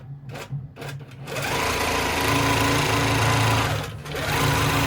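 Sewing machine stitching the seam of a notebook cover, a steady whirring run after a few short starts, loud and close, pausing briefly near the end before resuming.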